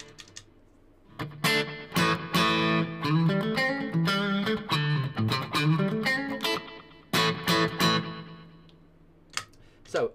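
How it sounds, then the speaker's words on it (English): Electric guitar played through a Boss Katana amp with delay and reverb engaged together, a run of plucked notes and chords trailing into echoing repeats and a washy tail, loud and close with brief pauses between phrases. "So I can have my delay and reverb on at the same time"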